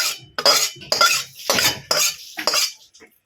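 Cooked Bengali curry with a little gravy poured from a pot into a serving dish in a home kitchen, giving a few scraping, clinking metal-on-dish strokes in uneven bursts, close and fairly loud, with no talking.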